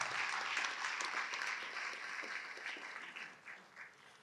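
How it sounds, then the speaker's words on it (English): Audience applause for teachers at a town meeting in Milton, a dense clapping that fills the room at moderate distance and slowly thins out, with a few louder separate claps near the end. "Give her a round of applause tonight, and all your other teachers"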